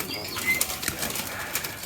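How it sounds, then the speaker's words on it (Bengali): Pigeons inside a farm loft flap their wings in a few soft bursts over a low background hum, fairly close, with no clear cooing. "এই যে কবুতরগুলো এবার এই ভেতরেই থাকতে চাচ্ছে"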